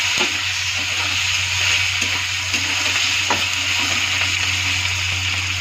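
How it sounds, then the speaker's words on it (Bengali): Steady sizzling of capsicum frying in a pan, with occasional scraping clicks of a spoon stirring; no voices. "একটু ভালো করে নাড়াচাড়া করে নেব।"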